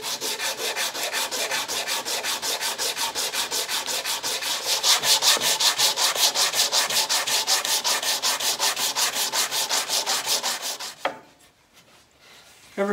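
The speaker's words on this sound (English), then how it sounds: "bit of sanding on the back side here just to make sure that this is going to be nice and a flush fit" Sanding an elm console table leg part by hand to get a flush fit: a rapid, even back-and-forth rasping rub, close and continuous for about eleven seconds, then stopping.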